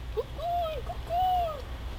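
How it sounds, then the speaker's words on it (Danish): Two soft whistled bird notes drift over a low steady background hum, faint and somewhat distant, on a warm summer day in a forest. "Fuglene fløjtede,"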